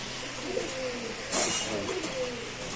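Racer pigeons coo softly in a low, repeated throaty murmur, with a brief brighter rustle partway through, fairly close against a quiet background and no speech.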